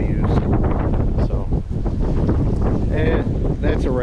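Strong wind blowing outdoors at a church memorial garden, a loud steady roar buffeting the microphone while people talk over it.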